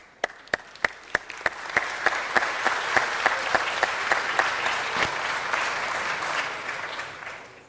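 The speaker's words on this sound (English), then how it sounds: "Let's give them a round of applause" A council chamber audience at a regular city council meeting applauds steadily, with a few sharp, distinct claps at the start swelling into a sustained round that tapers slightly toward the end.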